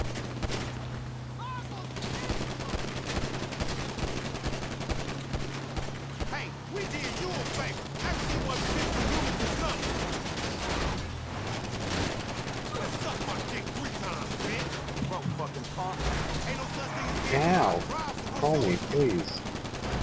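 Automatic gunfire in Grand Theft Auto V, repeated bursts of shots over a roaring vehicle engine, loud and close, with brief talk mixed in.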